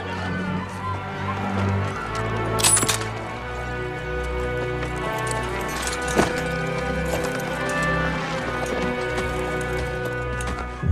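Rhythmic hooves of the sheriff's horse clop at a gallop beneath a full orchestral score that plays throughout, in the series Westworld.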